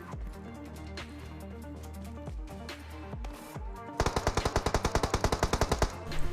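Automatic gunfire in a battle royale video game fight: rapid bursts of shots, then a long, fast, evenly spaced volley that sounds loud and close, with no talk.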